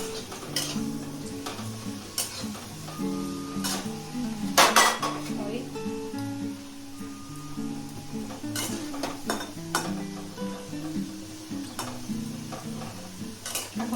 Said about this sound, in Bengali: আলুগুলোকে ভেজে নিচ্ছি।